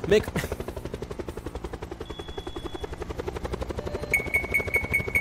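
A video game helicopter makes a loud, rapid rotor thump that throbs steadily throughout, with high electronic beeps repeating near the end.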